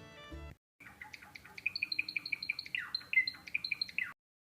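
Java finches in a colony cage give rapid, bright chirps and short tweets in a busy overlapping run, fairly close, after a brief lower squawk at the start.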